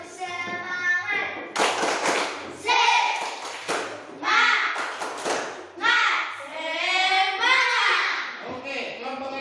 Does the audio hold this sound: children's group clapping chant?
yes